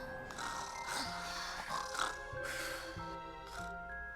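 A cartoon dog snores in a steady run of rhythmic breaths, each snort-like intake followed by a wheezy exhale, set against light background music and fairly close.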